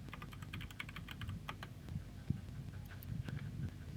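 Rapid keystrokes on a computer keyboard, typing an install command at a terminal, with quick bursts of clicks, a few pauses and one sharper tap near the middle, close and fairly quiet.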